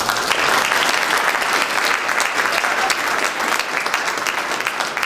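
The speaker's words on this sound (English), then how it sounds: "So let's have a round of applause." A lecture audience at a real estate speaker series gives a steady, full round of applause for about five seconds, dense and even throughout with no talk over it.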